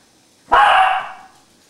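A single sharp dog bark rings out nearby, loud and brief against a quiet background.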